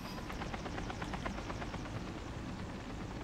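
A helicopter flies in the War Thunder video game, its steady rotor thump pulsing evenly under a constant engine drone, moderately loud and alone without talk.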